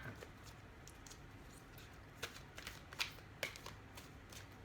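Large tarot cards handled and shuffled, soft papery rustling and sliding with a few sharper flicks and taps, quiet and close with no voices.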